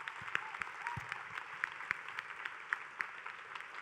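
Faint, distant applause from an audience at a fashion design competition runway show, a thin steady patter of clapping with a few sharper claps standing out.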